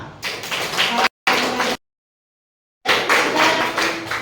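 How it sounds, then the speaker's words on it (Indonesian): Classroom applause for the second student group after their presentation: dense, broadband clapping in two short bursts, a brief gap of silence, then a renewed stretch of clapping. "tepuk tangan untuk kelompok 2"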